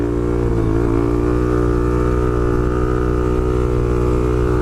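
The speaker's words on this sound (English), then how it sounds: "the first thing I'm gonna do is pull a wheelie." Supermoto motorcycle engine held at steady high revs through a wheelie, a loud, continuous buzzing drone close by with a brief pitch dip early on and no talking.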